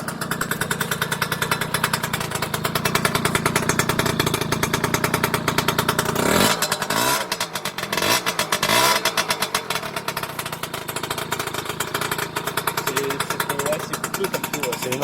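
A moped from a large collection of French mopeds idles close by with a steady, rapid putter, briefly blipping its throttle midway, while people talk over it.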